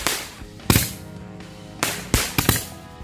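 Tora-tora firecrackers set off during Ramadan crack in a rapid, irregular series of sharp bangs, one faint pop followed by several loud reports, two of them close together near the end.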